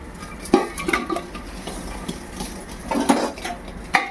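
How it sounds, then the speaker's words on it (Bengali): Chicken being moved into a cooking pot for street-style biryani, with irregular clanks and knocks of metal utensils against the pot and wet shuffling between them, close and moderately loud. "এবার এই হাঁড়িটার মধ্যে চিকেনটা শিফট করব।"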